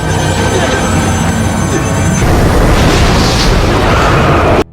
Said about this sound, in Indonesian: Dengan ledakan yang sangat dahsyat tersebut